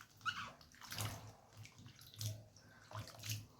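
Raw potato fries being stirred in a bowl of salted water, with soft swishing and sloshing in uneven bursts and gentle splashes, quiet and close.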